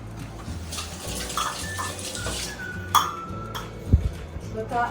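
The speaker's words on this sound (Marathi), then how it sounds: "काय हात धुवून ठेवा" Tap water runs and splashes as hands are washed under a kitchen faucet, with a steady gushing stream, a few clinks and knocks near the end, and faint voices in the background.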